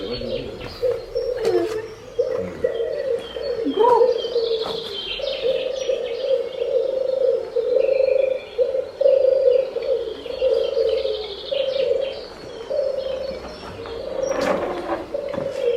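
Pigeons coo steadily at a dovecote, their calls played from loudspeakers, with chirps from other birds and faint voices in the background.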